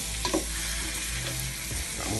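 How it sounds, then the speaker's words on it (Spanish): Chopped onion sizzling in melted butter for onion soup, a steady, close hiss with a few soft stirring scrapes near the start. "Cuando esté casi derretida por completo, vamos a agregar entonces la cebolla."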